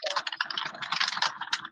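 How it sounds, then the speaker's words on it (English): Rapid, continuous clacking of a computer keyboard picked up by an open microphone during a remote court hearing, a steady patter of keystrokes with no voices. "I think we're hearing your keyboard."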